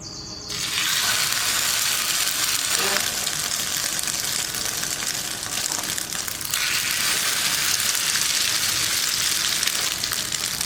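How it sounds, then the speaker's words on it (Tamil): Bread slices dipped in egg and milk fry on a hot dosa pan with a dense, continuous sizzle that kicks in after a brief pause and holds steady and close throughout. "அதில் ஒவ்வொன்றா நினச்சி எடுத்து தோசைக்கல் மேலே போட்டுக்கலாம்"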